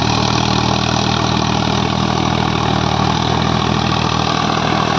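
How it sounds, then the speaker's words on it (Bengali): A Sonalika RX 50 4WD tractor runs a 72-blade Shaktiman rotavator at high speed, its engine a loud, steady, close drone with a constant low hum and no breaks. "রোটার প্রচণ্ড হাই স্পিড করা আছে, প্রচণ্ড রোটার ঘুরছে এবং রোটার কাঁপছেও"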